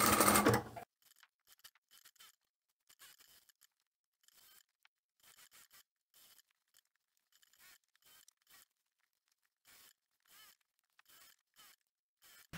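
Sewing machine top stitching a fabric storage caddy, heard as short bursts of quiet mechanical whirring separated by pauses, after a brief louder noise at the start.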